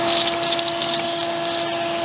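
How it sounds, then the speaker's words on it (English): A vacuum cleaner sucks wood shavings out of a hidden foundation waterer, a steady close whooshing drone with faint rattling of debris, running continuously with no talk. "So I'll vacuum this out."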